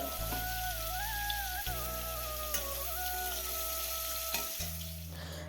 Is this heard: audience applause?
no